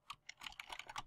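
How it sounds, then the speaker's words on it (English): Quick, irregular keystrokes on a computer keyboard while filling in a genealogy record form, a steady patter of light clicks heard alone and close. "as I'm typing"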